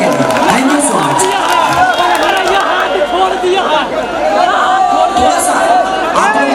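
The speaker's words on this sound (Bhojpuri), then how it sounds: "मैं चाहता हूं कि एक शिविर के लिए जोरदार ताली बजा दीजिए।" A large crowd at a night stage show in Deoghar cheers and claps loudly and continuously, with whoops and excited chatter mixing into a dense, steady roar throughout.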